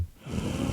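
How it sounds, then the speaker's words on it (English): A single quick, full inhalation drawn through the nose or mouth during a yoga breathing exercise, close and clear, with no speech. "And a full breath in."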